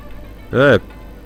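A cat lets out a single short, loud meow in the video game Postal 2, standing alone against quiet background ambience.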